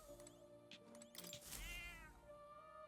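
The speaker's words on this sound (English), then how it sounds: "Pet the kitty." A cat meows softly in the video game Metaphor: ReFantazio. The drawn-out, rising meow sits over quiet game music and ambience and is fairly faint overall.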